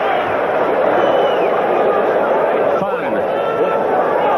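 A boxing arena crowd at the Palace of Auburn Hills cheers in a standing ovation for Buster Mathis Jr., a steady wash of crowd noise and chatter under the ring announcer's commentary.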